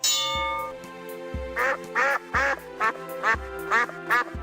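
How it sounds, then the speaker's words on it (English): Ducks quack loudly in Simon the Sorcerer, a retro point-and-click game: a series of about seven evenly spaced synthetic quacks over a looping tonal music background. "The ducks are really loud, aren't they, in this frame?"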